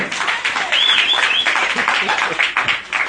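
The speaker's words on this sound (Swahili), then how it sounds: "Hebu tupigie Bwana makofi makubwa" A church congregation claps loudly at a bishop's sermon service, dense steady applause mixed with voices for about three seconds.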